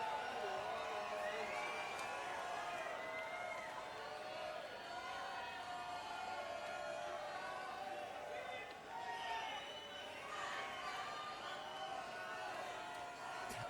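A concert crowd at a Big Cypress New Year's show (1999–2000) cheers and whoops continuously, with overlapping shouts at a moderate, fairly faint level.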